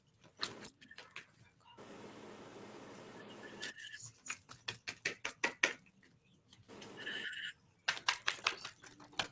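Quick, crisp riffling bursts of cards being shuffled, repeated several times with short pauses, close and fairly quiet.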